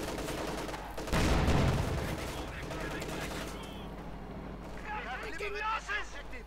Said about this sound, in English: They're shooting left and right here.